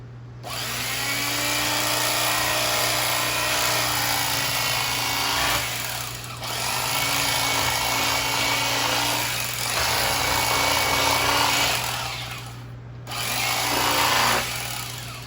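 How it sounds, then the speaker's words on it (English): Close electric knife slicing a cut of beef for Swiss steak, a steady buzzing motor whine in three long runs with brief pauses between, no talking. "dispatch these into slices is to use an electric knife"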